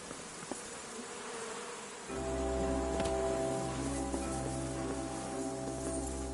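Bees from a hive in Kingdom Come Deliverance 2 make a low, droning buzz that thickens after two seconds into a steady, close hum with layered tones.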